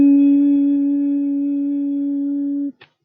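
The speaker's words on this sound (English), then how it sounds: "if you just put a rather dull sine wave, then it'll make a sound a bit like this." A plain sine wave fed into a speaker coil gives a steady pure hum, loud and close, that holds evenly for almost three seconds, cuts off abruptly and is followed by a faint click.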